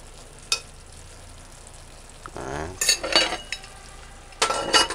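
Sliced king fish callaloo is stirred in a pot, giving scraping and clinking spoon sounds with a soft sizzle beneath. Brief metallic knocks come at the start, middle and end, close and moderately loud.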